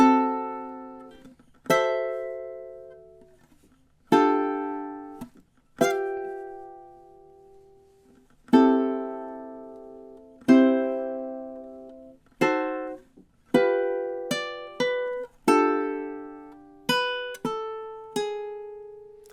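Ukulele playing a Roaring Twenties anthem at a slow practice tempo: bright strummed chords with long ringing decay, spaced apart at first and then coming in quicker clusters, played alone with no voices.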